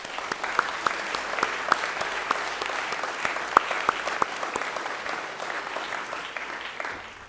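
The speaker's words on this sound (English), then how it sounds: "That's a round of applause." Steady applause from a school assembly audience at a headmaster's gathering, a dense patter of many hands with a few sharper individual claps standing out, continuous and moderately loud across the whole stretch.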